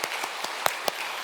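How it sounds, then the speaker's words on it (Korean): A handful of scattered, faint handclaps from a congregation at a church revival meeting, a few sharp separate claps spread across about a second rather than a full burst of applause. "우리 아버지께 박수할까요?"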